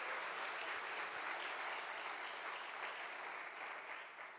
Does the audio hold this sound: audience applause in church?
yes